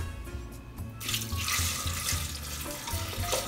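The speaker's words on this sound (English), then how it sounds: "Going to put this over the top of the eggs. It's just some white vinegar." White vinegar pours steadily over pickled quail eggs in a jar, making a continuous close liquid splashing and gurgling sound that starts abruptly after a quiet moment.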